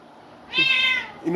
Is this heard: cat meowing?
yes